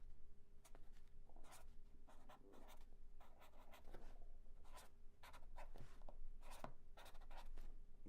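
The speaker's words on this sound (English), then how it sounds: "It's a little bit like writing tomorrow like this." Pencil or pen writing by hand on paper, a series of short scratchy strokes in irregular bursts, quiet and close with a faint steady hum underneath.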